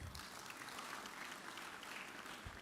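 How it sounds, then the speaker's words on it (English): Graduation-ceremony audience at a business school applauding, a steady, dense wash of many hands clapping that stays fairly faint and distant throughout. "Please, a resounding round of applause"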